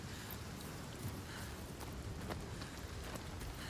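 Steady rain falls in the video game Senua's Saga: Hellblade II, a soft continuous patter with light scattered drops and a low rumbling undertone, quiet and unbroken, with no voices.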